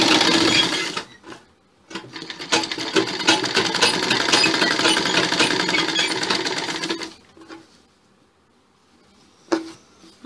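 A sewing machine stitches cloth with piping for a Chinese-collar sherwani suit. It runs in a loud, fast, steady whir for about five seconds, then stops, leaving near silence and a brief knock.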